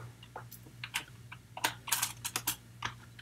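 Keys clatter on a computer keyboard in quick irregular bursts of clicks, close and fairly crisp, over a low steady hum, with no talking.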